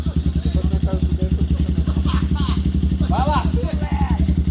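A trail motorcycle engine chugs close by with a rapid, regular pulsing beat that builds slightly, while people talk briefly over it.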